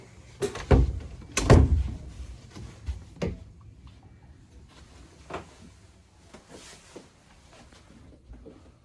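Several loud sliding and knocking sounds as a shower door on a 2012 Mikelson 43-foot yacht is moved and bumped, followed by quieter clicks and rattles.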